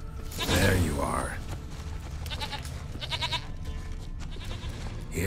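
A goat bleats once, loud and close, in The Witcher 3 video game, a wavering nasal cry followed by softer creaks and game ambience.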